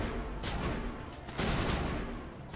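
Gunfire crackles in the sci-fi shooter Mass Effect as a dense, continuous burst of rapid shots that swells into a louder barrage partway through.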